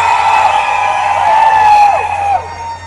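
A live crowd at a tribute rock concert screams and cheers in a loud, sustained roar with high whoops, close and filling the room before fading slightly at the end.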